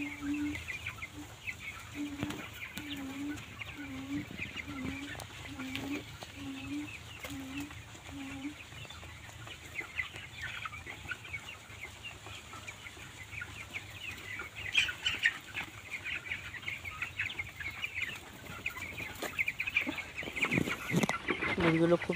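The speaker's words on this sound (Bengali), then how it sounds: "মুরগিগুলো খুব সুন্দর লিটারের মধ্যে হাঁটাচলা করছে।" Chickens on a poultry farm cluck in a steady repeated series early on while birds move about on floor litter, with continuous flock chatter and scratching throughout at close range.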